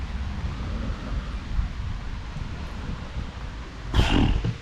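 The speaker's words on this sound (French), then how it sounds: "Il pleut, il y a du vent." Wind gusts of about 50 knots rumble against the microphone with a steady wash of rain in the background, plus a brief sharper burst near the end.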